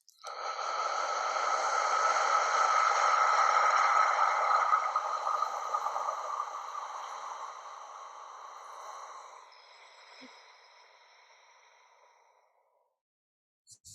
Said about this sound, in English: in yoga, they call it ujjayi breathing,